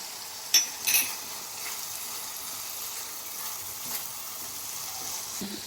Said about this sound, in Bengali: আমি টমেটো কুচি দিয়ে দিচ্ছি।